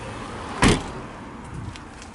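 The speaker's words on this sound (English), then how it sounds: "The doors, they sound really solid." Door of a 2012 Scion iQ small hatchback shuts with a single solid, dampened thud, near and brief, followed by quiet background.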